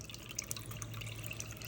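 Cold tap water drips and trickles onto icy frozen fish in a sink, faint and close, with small irregular splashes and droplet ticks over a low steady hum.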